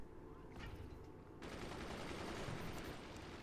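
Minigun fire in the strategy game Forts, a dense, continuous rattling burst that thickens after a brief lighter opening and carries on steadily, fairly quiet overall.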